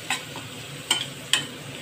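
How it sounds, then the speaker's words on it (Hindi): Onion, garlic and ginger paste fry in a pan under a steady soft sizzle, with three quick spoon scrapes of stirring spread out over the sizzle. "इसका भी कच्चापन जब तक दूर ना हो जाए तब तक हम लोग इसको भी ऐसे फ्राई करते रहेंगे"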